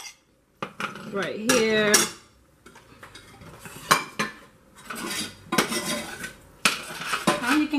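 A spatula clanks and scrapes in a pan while onions, garlic and Daiya vegan cheese are sautéed for mac and cheese, giving irregular metallic knocks and stirring scrapes with a faint sizzle and a few brief spoken words.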